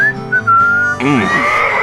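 A melodic whistled tune opens the K-Rose country radio jingle in GTA San Andreas. It is loud and close, holding a few long notes before a voice and music come in.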